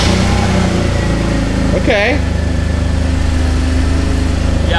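An old Mercedes car engine idles steadily after a spark plug swap, a close continuous low drone with even pulsing, while a person briefly speaks over it.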